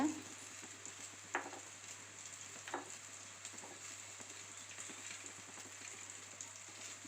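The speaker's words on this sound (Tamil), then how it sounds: "ரெண்டு துண்டு இஞ்சி அரிஞ்சி போட்டுக்கோங்க அதுவும் சேர்த்து வறுத்துக்கோங்க" Ginger pieces frying in a pan for a ground-masala fish curry, a soft steady sizzle with a few sharper crackles and spatters, fairly quiet and without talk.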